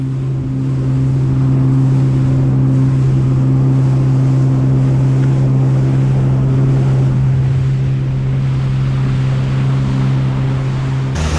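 Jet ski running steadily across flat bay water near West Palm Beach, a loud continuous engine drone with hissing water and wind throughout, no talk.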